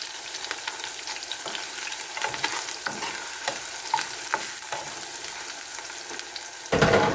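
Garlic sautéing in a hot pan for pork liver steak, a continuous close sizzle with crackling oil and occasional spatula scrapes, louder hiss bursting near the end.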